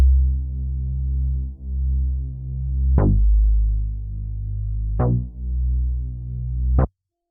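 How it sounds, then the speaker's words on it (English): Soloed synth bass layer from a beat: a deep, sustained humming tone with rich harmonics, broken by three punchy note attacks at even intervals before cutting off abruptly, loud and alone. "this bass soloed out sounds like this"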